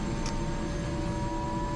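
Airbus AS350 B2 helicopter turbine spinning up during engine start, a steady broadband whine and roar with sustained tonal lines, close and continuous with no voices.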